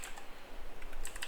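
Quick, light keystrokes on a computer keyboard, a short burst of soft clicks close by with no talking.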